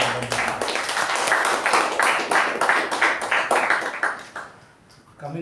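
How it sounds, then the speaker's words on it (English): A meeting audience gives a round of applause, with rhythmic claps that are fairly close and lively, then thin out and fade to near silence toward the end. "Let's give a round of applause to our table topic master."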